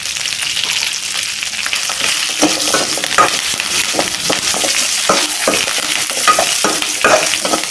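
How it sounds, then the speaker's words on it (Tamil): Curry leaves, shallots and dried red chillies sizzle and fry in a hot pan for a South Indian curry leaf thokku, with a steady loud crackle and stirring scrapes throughout and no talk. "எல்லாத்தையும் சேர்த்து வதக்கிக்கணும்"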